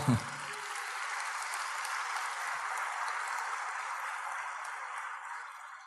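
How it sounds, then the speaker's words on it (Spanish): A church congregation applauds during a general service, a broad, even roar of clapping that starts with a brief low thump and holds steady at moderate loudness to the end, with no speech over it. "Un aplauso al Señor"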